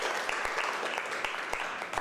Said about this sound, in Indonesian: Beri aplaus untuk Saki dulu.